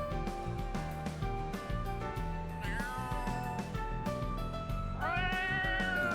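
A cat in The Legend of Heroes: Trails Through Daybreak II gives several raspy, drawn-out meows with rising and falling pitch, loud over a continuous music track.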